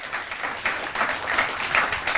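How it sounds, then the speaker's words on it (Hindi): Studio audience applauding to welcome yoga guru Baba Ramdev onto a Hindi news talk show, a dense, steady burst of clapping throughout with a few swells, no voices over it. "जोरदार तालियों के साथ स्वागत करिए योग गुरु बाबा रामदेव का"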